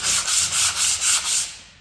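A sandpaper disc is rubbed gently by hand, without a power sander, in about six quick, even back-and-forth strokes, a close, dry scratching rhythm with no voices.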